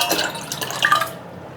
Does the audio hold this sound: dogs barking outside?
no